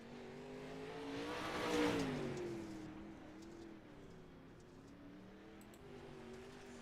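Pro Late Model race car engine in the iRacing game at Fairbury, a steady droning note that swells to a peak and then holds at moderate level as the car runs down the front straightaway after turn four.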